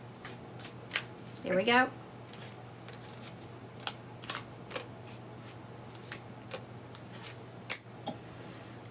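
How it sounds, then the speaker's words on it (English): Tarot cards being shuffled by hand, with a run of crisp riffles and repeated soft card snaps close by, and a brief spoken remark partway through. "I don't know if y'all heard how many times I shuffled those cards."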